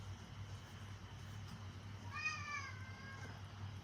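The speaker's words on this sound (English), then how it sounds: "I don't know what is up with this cat today." A single drawn-out cat meow rises out of steady indoor room hum, moderately close and alone with no talk, lasting about a second and a half.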